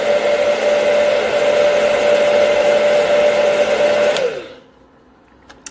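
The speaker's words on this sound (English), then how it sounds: "And then I use my blow dryer trick to curl my lashes." A handheld blow dryer runs with a steady, loud whirring hum and whine, blowing warm air to curl eyelashes, then clicks off and winds down into near silence for the last second or so.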